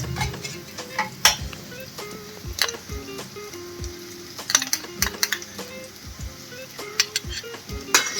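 Ginger garlic paste with coriander powder and spices frying in a pan for paneer biryani, a soft sizzle under repeated sharp scrapes and clinks of a spoon stirring against the metal, close and fairly loud, with no talking.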